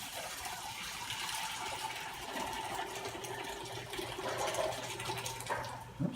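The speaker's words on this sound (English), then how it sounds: "So I'm just going to pour this into the colander." Goopy brewing mash for an IPA is poured from an Instant Pot into a colander, a continuous sloshing, gushing liquid sound with a low wet gurgle, close and fairly quiet, with no talking.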